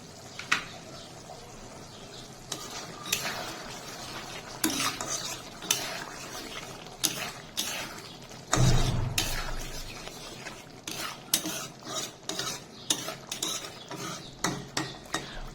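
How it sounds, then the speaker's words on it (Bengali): A spoon scrapes and knocks around a pot of mutton chusta curry as garam masala is stirred in, giving irregular metallic clinks and scrapes, sparse at first and then quicker, with a soft sizzle beneath and a louder thump near the middle. "গরম মশলা গুঁড়ো দিয়ে নেড়ে চেড়ে নামিয়ে নেব।"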